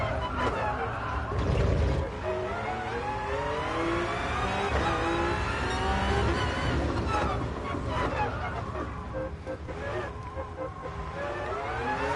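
Simulated 500-horsepower race car in Gran Turismo Sport, its engine revving and climbing through gears with rising whines and shift drops, loud and continuous throughout, with some background voice noise mixed in.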